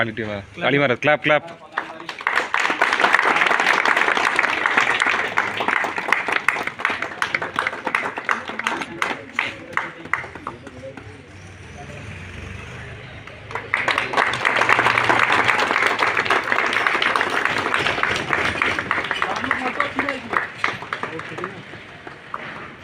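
Two long bursts of applause and clapping from a crowd at an Independence Day gathering, loud and dense, separated by a quieter stretch with voices.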